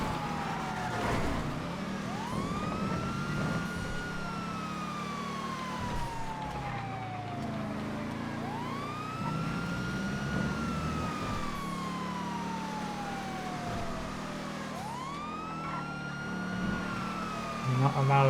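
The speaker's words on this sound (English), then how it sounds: "overtake police cars with their sirens on" Police car sirens in GTA FiveM wail in repeated rising and falling sweeps over a steady engine drone, loud and close throughout.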